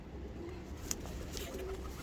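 Soft, low pigeon cooing drifts from birds kept in a pigeon coop. It is faint and steady, with one brief click near the middle and no talking.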